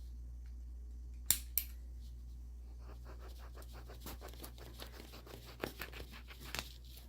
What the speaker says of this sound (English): let me get out my trusty X-Acto blade and well, the only thing left to do is just cut.